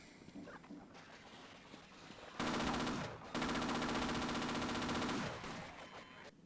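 An automated turret in Half-Life opens fire with long, loud, sustained machine-gun bursts, briefly pausing between them, over quieter rattling and clatter before and after.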